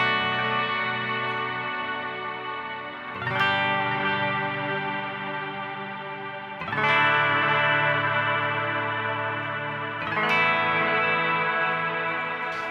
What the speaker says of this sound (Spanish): simplemente usamos los acordes con ambiente y con un delay